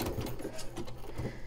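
A sewing machine runs a zigzag stitch through a playing card, giving a soft, quick mechanical clatter with regular pulsing thumps, fairly quiet and close, with no one talking.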